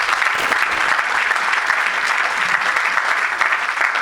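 A large church audience applauds and cheers steadily for Jesus during a French-language evangelical sermon, a dense, continuous wash of clapping and crowd noise that stays loud throughout.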